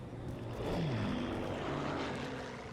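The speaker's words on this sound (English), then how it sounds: "those airplanes flying overhead were always there from the very" Airplanes flying overhead in the Call of Duty 2 World War II game, a steady droning propeller engine roar that swells slightly and holds, with no talking.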